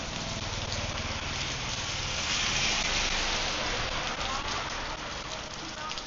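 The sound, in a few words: rain falling outside a cafe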